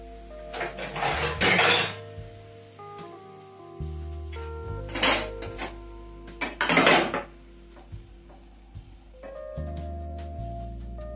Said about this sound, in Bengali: দেখুন, আমি চাপা দিয়ে দিলাম।